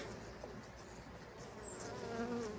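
Dense, steady drone of many honey bees buzzing in an open hive close by, soft but continuous, with a few higher buzzes passing near the end.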